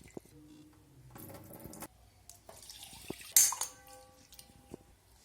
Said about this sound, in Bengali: ভেজে রাখা ডালের মধ্যে এখন জল দিয়ে আমি 2 থেকে 3 বার ধুয়ে নেব